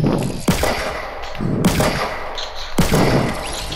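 Gunfire in the Fortnite video game, three sharp loud shots with reverberating booming tails, spaced about a second apart.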